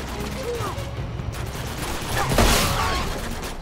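Uncharted 2: Among Thieves gameplay during a tank attack, with a dense, continuous din of gunfire and mechanical rumble, swelling louder around the middle, while a voice talks over it.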